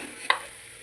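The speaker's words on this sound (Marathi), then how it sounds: "बटाटे मी तेलामध्ये फ्राय करायला ठेवलेत." Potatoes frying in oil give a faint low sizzle, broken by one brief sharp clink near the start of a very short moment.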